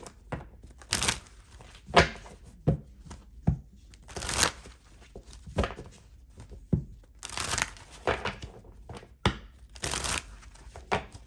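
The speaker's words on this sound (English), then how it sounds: "let me do a quick shuffle" Tarot cards are shuffled in repeated quick bursts of riffling and slapping, separated by short pauses, close and crisp with no talking.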